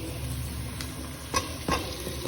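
Boiled cucumber is stirred in a pan over a steady soft sizzle, with two or three quick, close scraping strokes of the spoon and no talking.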